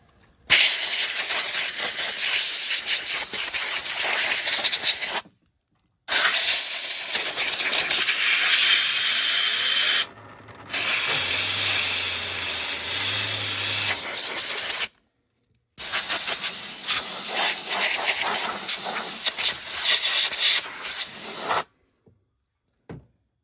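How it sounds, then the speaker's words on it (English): A bench grinder's wire brush scrubs a Hoover PowerDrive U6311-930 vacuum brush roll, a harsh hissing, rasping whir in several bursts separated by short silences, with a low humming segment in the middle. "So I just gave the brush roll the bench grinder wire brush treatment."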